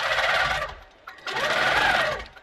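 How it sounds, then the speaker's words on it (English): A quilting sewing machine stitches free motion at a set speed of 250, making a fast buzzing needle hum in two bursts separated by a short pause, close and clear. "so a bit of free motion quilting."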